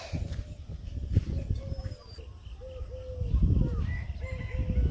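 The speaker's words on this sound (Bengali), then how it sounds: "ঘুঘু পাখি ডাকতেছে" A dove calls with soft, low cooing phrases repeated several times over a rural village morning, mid-distance, against rustling household background noise.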